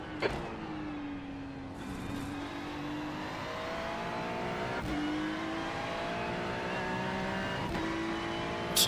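Engine of a race car in the iRacing simulator, a steady high-pitched whine that rises through the gears with brief dips at each shift, continuous and close, with no talk.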